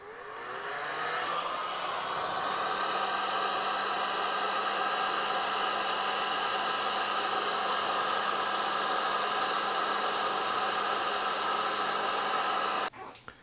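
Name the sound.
heat gun shrinking heat-shrink tubing on guitar wiring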